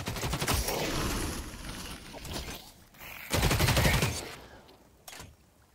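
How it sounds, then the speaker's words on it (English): A gun is hip-fired in The Cycle: Frontier in loud, rapid automatic bursts, with a long burst, a pause, another sustained burst and a final single shot. "I feel like that gun is so accurate with hip firing."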